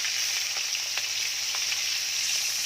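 Hilsa fish frying in a hot pan, a steady close hiss and sizzle with faint crackles, no voices.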